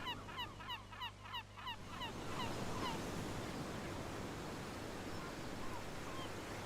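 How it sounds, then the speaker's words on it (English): Surf washing in continuously as a broad wash of noise, with repeated gull cries over it during the first couple of seconds, near a lighthouse in Farming Simulator 17. "Obviously, we have the waves sound effect, the seagulls."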